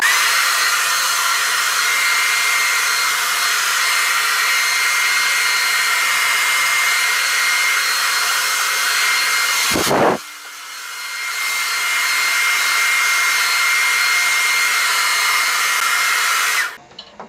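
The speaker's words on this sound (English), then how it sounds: "Let's blast it with hot air." A hair dryer blasts hot air onto gelled, spiked hair in a loud, steady close-up whoosh, cutting out briefly partway through, then roaring on again until it switches off near the end.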